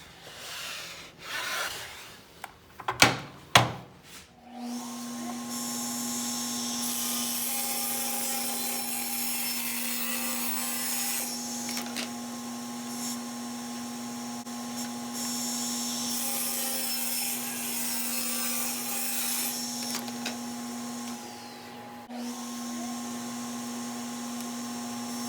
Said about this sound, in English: With the blade raised, we're just going to cut to the top of the plywood